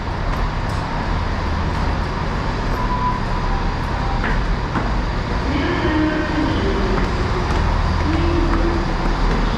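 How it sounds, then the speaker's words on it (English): Steady, loud rumbling drone of a train with a low turbo engine roar and mechanical whine near Bristol, England, continuous throughout with faint higher tones drifting in. "As you can hear the roaring of a turbo"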